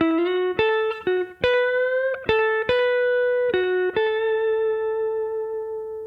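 An electric guitar plays a minor pentatonic lick with a slide and a bend, with sharp plucked attacks and gliding pitch changes, ending on a long sustained note that slowly fades, close and clear.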